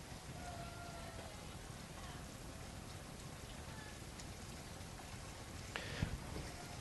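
Creamy butter chicken sauce simmering in a pan gives a steady, rain-like hiss and crackle throughout, with a slightly louder pop near the end.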